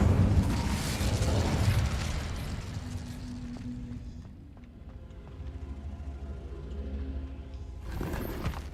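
Incendio fire spell cast in Hogwarts Legacy: a loud, broad fiery whoosh and rumbling burst for the first few seconds, settling into a lower crackling and hum, with a second rushing flare near the end.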